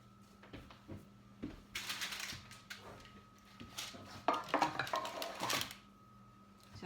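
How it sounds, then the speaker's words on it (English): Gooey blondie batter with walnuts is scraped from a bowl into a baking pan, a faint series of scraping and knocking strokes in irregular bursts against a quiet background hum. "You scrape it in the pan."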